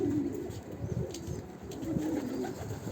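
Posta pigeons in a coop give a continuous low cooing murmur, close and steady, with soft rustling throughout.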